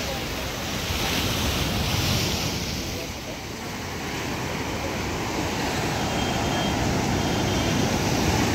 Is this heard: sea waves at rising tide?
yes